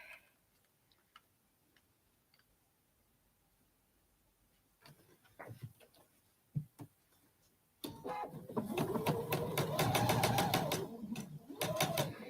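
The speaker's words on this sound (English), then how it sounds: "put them in the order that I want to sew, and I am going to just chain piece" A sewing machine chain pieces a quilt block, using a quarter-inch foot. Faint clicks and handling come first, then a close, loud burst of rapid stitching for the last few seconds.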